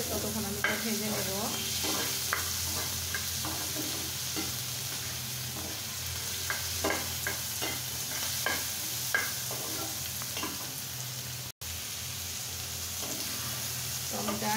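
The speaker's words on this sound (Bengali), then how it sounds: "যতক্ষণ না টমেটো থেকে একটু ভাজা ফ্লেভার আসছে ততক্ষণ আমি এটা ভেজে নেব।" Chopped tomatoes sizzle and fry steadily in a hot pan while a utensil stirs and scrapes them in repeated clustered strokes, close and continuous for the whole stretch.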